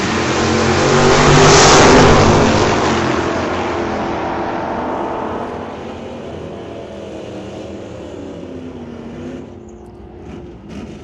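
A 1969 Plymouth Valiant drag car launches hard at an old-time drag strip, its engine roaring loudest early on and then fading steadily into the distance as it pulls away.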